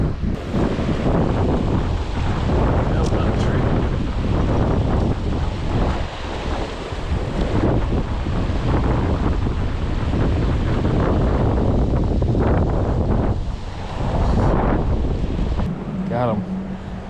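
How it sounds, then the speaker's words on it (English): Strong wind blowing beside the Tuckasegee River in the morning, a loud, continuous roar buffeting the microphone, with a rushing water-like wash beneath and brief higher sounds near the end. "You can hear the wind blowing probably. It's blowing pretty good this morning."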